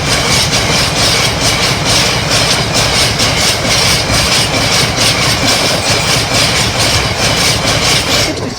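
A red Deutsche Bahn Class 66 diesel locomotive, 66067, roars past a level crossing on the Stamford line toward Mount Sorrel sidings, loud and close, with heavy engine rumble and a steady rhythmic clatter of wagons rolling over the rails.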